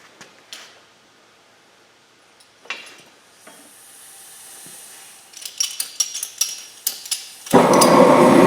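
A gas torch's bottle valve is cracked open slowly, and after a few metallic clicks and taps the gas bursts in as a loud, steady hiss that continues to the end.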